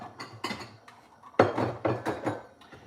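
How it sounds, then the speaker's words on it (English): A glass dish is handled on a home kitchen counter while lasagna soup is being made, giving a close series of irregular clinks, knocks and clattering taps with short gaps between them. "So I'm going to put this in a glass dish."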